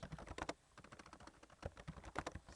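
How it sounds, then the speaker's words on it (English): Quiet, close typing on a computer keyboard during a software tutorial, irregular clusters of light key clicks with brief pauses between words, no voices. "You click into it and you type anything you want"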